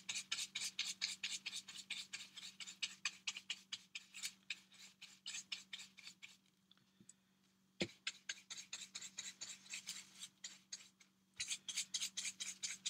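Embossing medium rubbed by hand onto collage paper, giving a run of quick rhythmic scratchy strokes, close and fairly loud, with a short quieter pause midway before the rubbing resumes.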